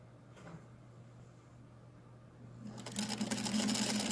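A Singer Featherweight sewing machine with a walking foot, quilting, starts running near the end, a loud steady whir of rapid stitching that follows a quiet stretch of low hum.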